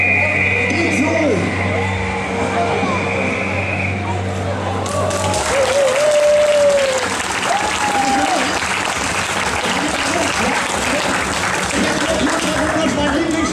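A street-festival crowd bursts into sustained applause for a Chinese diabolo trick at a Linz street performance, dense clapping with a performer's voice and some cheers mixed in.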